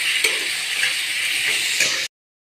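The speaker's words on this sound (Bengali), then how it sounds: "টমেটো আর ফুলকপি দিয়ে দিলাম। ভালো করে নাড়াবো।" Onion, tomato and cauliflower fry in a pan with a steady, bright sizzle, broken by a few stirring scrapes. The sound is close and continuous and cuts off abruptly.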